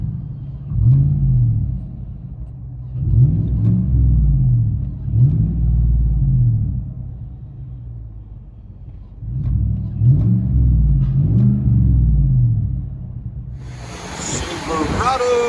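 From inside the cab, a 2017 Chevy Silverado Z71 with the 5.3L V8, dual exhaust and high-flow catalytic converter gives a deep exhaust drone that rises and falls in several rev-like swells before a burst of wind noise at the end.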